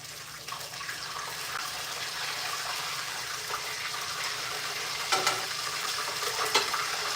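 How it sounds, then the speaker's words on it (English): Chicken enchilada wontons fry in a pan after being flipped, giving a steady, moderately quiet sizzle with a few faint clinks. "Hang on, I'm gonna flip these wontons."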